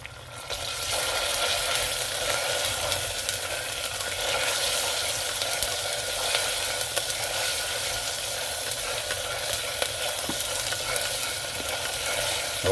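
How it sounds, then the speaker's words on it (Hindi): Garlic and ginger being stirred in a hot oily pan for mixed dal, a steady close sizzle with continuous frying hiss throughout and no talking. "अच्छी तरह अब इसको मिक्स करूँगा।"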